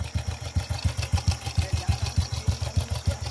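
A homemade, primitive motorcycle engine runs steadily in a rural village, giving a rapid, even, close-up low thumping pulse with rattling throughout.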